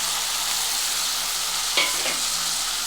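Onions and tomatoes frying in a pan for capsicum rice bath, a steady close sizzle with a brief stirring scrape near the end, no voices.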